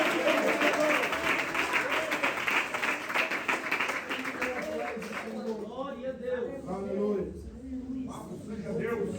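A church congregation claps and applauds loudly during a sermon, the dense clapping fading after about five seconds as a voice carries on speaking over scattered claps.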